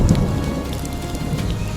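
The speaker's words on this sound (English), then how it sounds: "The storm arrived like a curtain, and everyone moved behind it" Heavy rain pours steadily in a thunderstorm, with a low rumble of thunder near the start, loud and continuous with no voices.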